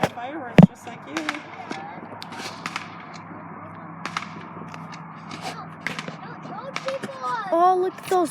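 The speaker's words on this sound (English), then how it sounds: "people are putting fireworks close to the ground. They're like popping things or something." Neighbors' fireworks set off close to the ground outdoors, giving a string of sharp pops and cracks at irregular intervals, with one loud bang near the start, under intermittent talking voices.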